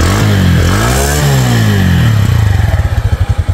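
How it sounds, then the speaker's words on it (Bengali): A TVS Metro 100cc ES motorcycle engine starts with a rising whir, then settles into a loud, close, steady idle with a rapid pulsing putter. "বাইকটা যদি স্টার্ট করি, দেখুন অনেক সুন্দর সাউন্ড আছে কিন্তু"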